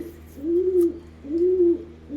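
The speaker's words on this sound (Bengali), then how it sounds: "এই যে আরও একটা আন্ধ্রা পায়রা" An Andhra pigeon being given water before a morning flight coos close and clear, repeating low, drawn-out, hooting coos at an even pace, roughly three of them, with no talking over the calls.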